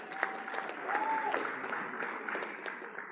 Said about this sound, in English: Can you clap hands for the Provincial Treasurer?